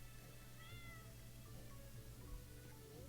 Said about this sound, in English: Oh, hey, look. It's cat day. Hello, Terminus. See this cat here